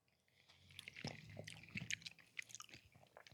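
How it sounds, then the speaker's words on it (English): Chewing food close to the microphone, wet crunchy bites with chili, irregular soft mouth clicks and smacks repeating over a few seconds, with no talking. "Bit of ASMR chewing."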